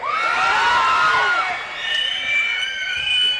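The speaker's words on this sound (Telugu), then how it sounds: "మీ అరుపులకి రోమాలు ఎప్పుడు నిక్క ఒడుచుకుంటూ ఉంటాయి" A large crowd at a Telugu film hero-launch event in Rayalaseema cheers, whoops and whistles loudly and continuously, with high shrill shouts rising and falling throughout.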